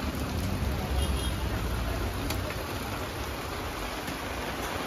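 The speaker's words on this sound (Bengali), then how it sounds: "আজকে দেখতে পারেন কীভাবে বৃষ্টি হচ্ছে" Steady broadband hiss of rain falling on a market throughout, with a low rumble and faint background voices mixed in.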